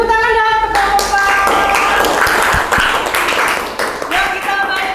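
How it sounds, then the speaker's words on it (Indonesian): A classroom group bursts into clapping for a presenting team, dense applause across the room mixed with voices and chatter over it. "Beri tepuk tangan dong ke kelompok 4."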